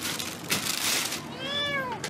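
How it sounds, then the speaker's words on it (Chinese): A small kitten meows in a short series of rising, tonal cries in the latter half, close and clear over a faint indoor background hum. "哎，你养只小猫呀？"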